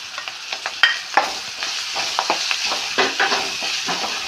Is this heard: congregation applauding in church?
no